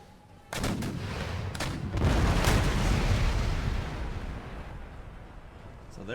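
Musket volleys and artillery fire in the video game Empire Total War, a few sharp cracks followed by a sustained rolling roar of massed gunfire that gradually fades, with faint talk underneath.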